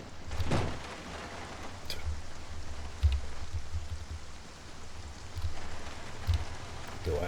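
Steady, soft rain falls in the video game Project Zomboid, a continuous hiss with occasional low thumps, heard alone at a moderate distance.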